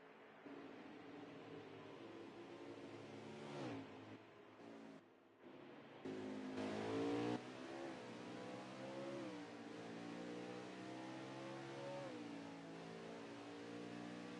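A race car at the Mid-Ohio circuit howls through a corner, its engine note dropping as it brakes and then climbing again as it accelerates hard out, loud and close with repeated upshifts.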